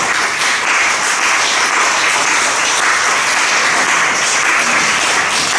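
A church congregation applauds in a loud, sustained wash of clapping that fills the space evenly from start to finish, with no voices rising above it.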